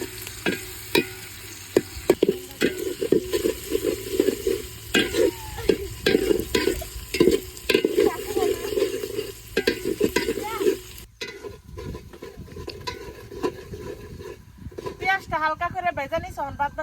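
Chopped onions lightly frying in a pan for a village-style biryani, heard as a close, steady sizzle with frequent rhythmic spatula scrapes and clanks against the pan. The sizzle thins near the end while a voice talks.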